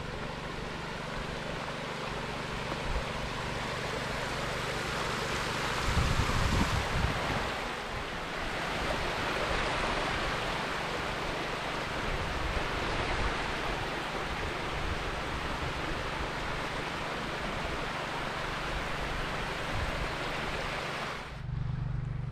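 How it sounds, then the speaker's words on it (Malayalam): A small artificial stream of wastewater at the Al Karaana lagoons in Qatar gives a continuous broad rushing wash. Some wind buffeting is mixed in, and no one speaks. "ഇവിടുത്തെ ചെറിയ അരുവി പോലെയൊക്കെ അവർ ഉണ്ടാക്കിയിട്ടുണ്ട്. വേസ്റ്റ് വാട്ടർ വന്ന് ഒഴുകി പോകുന്നതാണ്."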